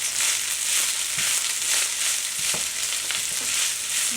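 Meat sizzles and fries steadily in a pan for an eggplant casserole, a close, constant crackling hiss with occasional soft scrapes of stirring.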